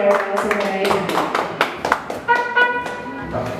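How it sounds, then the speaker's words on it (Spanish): Clapping rises for a mariachi band at a birthday celebration, scattered claps mixed with sung or spoken voices and bright tones, fairly close and moderately loud. "Y el aplauso fuerte para María Chimoní, primera clase"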